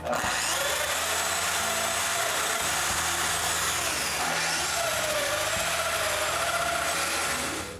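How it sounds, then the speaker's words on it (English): A power drill bores mortises into a glued wooden workbench top, a loud continuous whine and grinding that shifts in pitch as the bit cuts, close up and steady for several seconds. "I also drill more mortises into the already glued top."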